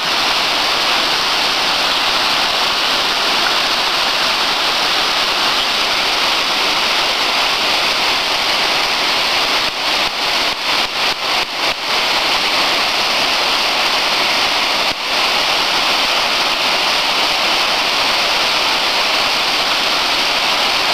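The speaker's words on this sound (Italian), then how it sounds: "Sentite il rumore dell'acqua che scende." A hillside waterfall pours in a loud, steady, broadband rush that continues unbroken throughout, with only a few faint clicks and no voices.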